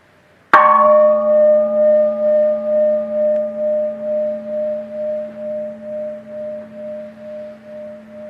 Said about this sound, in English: simply listen to the gong